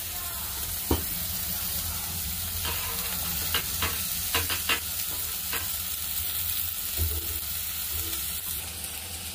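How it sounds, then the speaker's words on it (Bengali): Chopped onion, green chilli and capsicum fry in a pan for veg manchurian, giving a steady close sizzle broken by several sharp scrapes and clinks of stirring, with no talking. "কুচানো পেঁয়াজটা দিয়ে দিয়েছি, দিয়ে আবার খানিকটা নেড়ে চেড়ে নেবো।"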